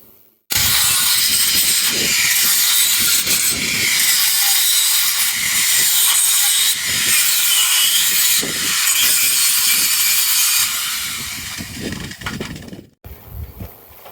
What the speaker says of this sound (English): Now we're going to cut out the bottom of these two center panels